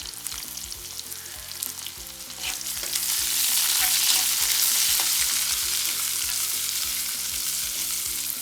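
Onions hit a hot pan already holding garlic, green chillies and curry leaves for a Jaffna-style fried drumstick curry, the sizzle swelling into a loud, steady hiss of frying that holds to the end.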